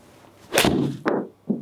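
A PING i240 iron strikes a golf ball outdoors on a range, a sharp swish and crisp impact followed by two shorter knocks, close and fairly loud with no talking.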